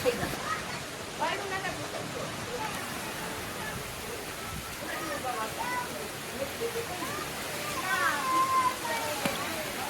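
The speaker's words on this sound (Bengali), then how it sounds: "জোরেও বৃষ্টি হয়ে এসছে।" Heavy rain in a windy storm pours down as a constant, dense hiss, with muffled voices surfacing now and then beneath it.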